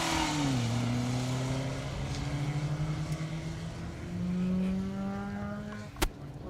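Peugeot 205 rally car on a Rali Menai Stages special stage, its engine note sweeping up through the gears in long rising tones, fairly close and steady, with a sharp sudden crack near the end.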